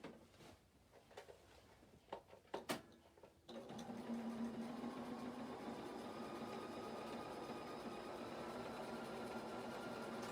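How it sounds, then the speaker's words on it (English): A sewing machine runs continuously, triple-stitching over a slit in a denim skirt. Some quiet handling knocks come first, then a steady, fairly close machine drone. "I forgot to put the triple stitch on, so I will just go over that where I stitched"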